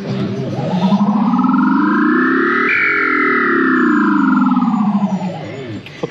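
Electronic music from a Sonic-themed arcade claw machine, loud and synthetic, with two tones that sweep up together and then glide back down, sounding close and alone.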